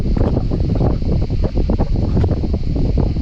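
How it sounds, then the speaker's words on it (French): Heavy wind buffets a microphone aboard a boat at Porquerolles, a loud, low, continuous rumble with gusty fluctuations and faint hiss above. "il y a du vent et j'ai peur que vous entendez pas"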